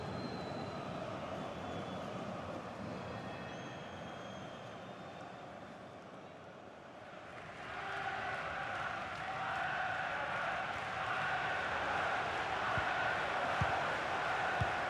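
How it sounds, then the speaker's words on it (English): A stadium crowd in the FIFA 20 video game keeps up a continuous roar during a Lille versus Ajax Champions League match, swelling louder halfway through and holding a sustained, chanting din. "Just listen to the crowd, Derek, urging their team on."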